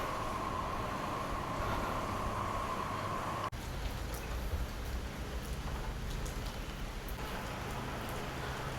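Steady rain falling and pattering on surfaces nearby in China, a continuous wash of drops with one sharp tap partway through.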